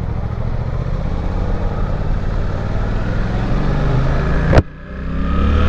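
Suzuki GSX-8R motorcycle accelerating at full throttle, a loud, steady engine roar with wind rush that climbs, then a sharp gear-shift cut before the engine pulls again.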